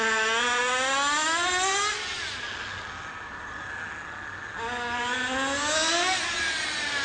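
Nitro HPI RC car engine revving up to about three-quarter throttle, a high whining pitch rising, dipping into a quieter idle, then climbing again, close and continuous.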